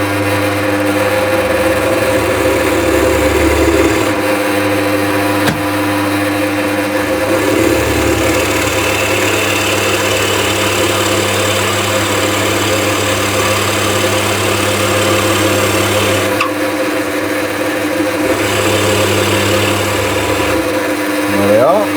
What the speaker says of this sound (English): Going to stop the drill.